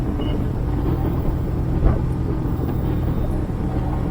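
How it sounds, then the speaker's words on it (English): Steady, deep exhaust rumble from an MGB roadster converted to a Camaro V6, recorded close to the tailpipe with a constant loud low drone and one brief bump midway, no talking. "I'll put the camera by the exhaust, and hopefully we can get a sample of the exhaust that sounds like."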